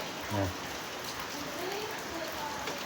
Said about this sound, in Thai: ฝนตกน้อย